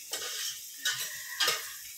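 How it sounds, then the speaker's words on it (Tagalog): Garlic, onion and tomato sauté in a hot pan in a small home kitchen, a constant close sizzle broken by three bursts of stirring scrapes, with no one talking. "Ginisa, bawang at sibuyas, plus kamatis."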